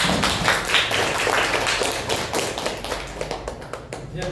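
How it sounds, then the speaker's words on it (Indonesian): Classroom applause after a group's score is announced, a dense continuous patter of many hands clapping close by, steady for several seconds and thinning slightly toward the end. "Tepuk tangan, Mbak."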